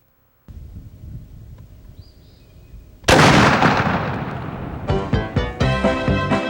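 A muzzleloader rifle fires with a single loud, sharp blast that rolls into a long fading echo, preceded by quiet handling noise and followed by rhythmic rustling or footsteps nearby.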